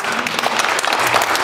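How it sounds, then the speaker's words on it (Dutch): An audience at a band gig in a small venue claps in dense, continuous applause, loud and close throughout the short burst. "Doe even een applaus voor jezelf."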